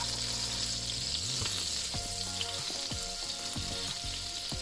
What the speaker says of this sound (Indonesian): Kita tumis bawang putih dan bawang merah ya